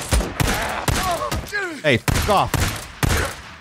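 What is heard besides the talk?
AK assault rifle gunfire in video game Days Gone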